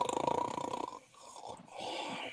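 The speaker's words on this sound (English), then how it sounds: "I'm pretty sure I heard a snore." A short nasal snore rattles close by, then trails off into a softer breathy rumble.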